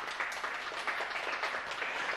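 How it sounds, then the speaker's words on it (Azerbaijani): A group of children applaud together in a steady, fairly faint patter of many small hands. It lasts about two seconds without a clear peak. "Rekorda uşaqlar bir alqışlar gəlsin."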